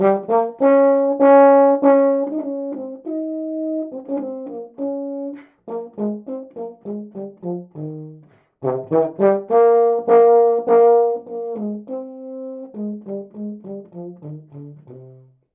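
A solo euphonium plays a slow, smooth lyrical exercise of sustained and shorter notes, with a brief pause midway, unaccompanied.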